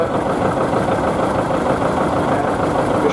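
A post-war Ford tractor engine runs at a ploughing match, a steady, loud mid-pitched rumble that holds an even drone without a break.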